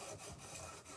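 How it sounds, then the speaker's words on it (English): Dried seed heads are rubbed over a bowl to shed their seeds, making a steady close scratchy rasp with slight pulses from the back-and-forth motion, quiet and continuous for about a second. "I will take this and just rub it across everything"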